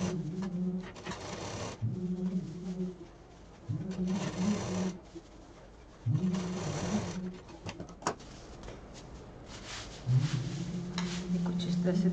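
A sewing machine stitches quilted and lining fabric pieces for a small turtle-shaped pouch, running in several steady bursts of a few seconds each, separated by short pauses, close and fairly loud.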